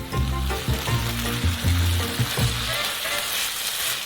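Chili con carne with Worcestershire sauce and a little dark chocolate sizzles steadily in a hot pan as it is stirred together, a continuous close frying hiss with soft scraping movements and no voices.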